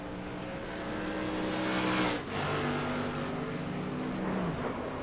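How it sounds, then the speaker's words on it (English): A race car engine straining and failing in a racing video game, Tour Mod cars at Phoenix, with a loud sustained roar and harmonic drone that dips briefly mid-way, then resumes with other engines around it. "The engine is starting to let go."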